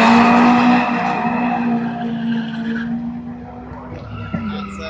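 A drag race car, a Honda DC2, launches hard off the line with tires squealing, the engine loud and high-pitched at first, then dropping back as it pulls away.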